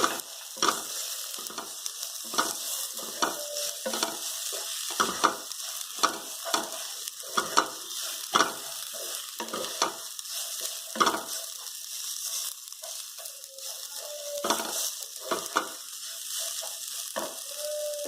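Masala and a small chopped tomato fried and stirred in a pan for Bhogichi Bhaji, with a steady close sizzle broken by repeated scraping spoon strokes throughout.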